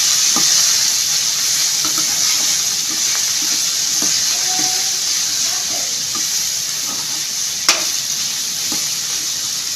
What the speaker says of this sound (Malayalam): എല്ലാം കൂടി ഇളക്കി യോജിപ്പിച്ചെടുക്കണം.